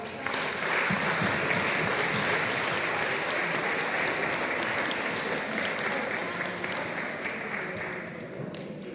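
Audience applause fills a school competition ceremony, a sustained wash of clapping from a crowd that holds steady for several seconds and tapers slightly toward the end.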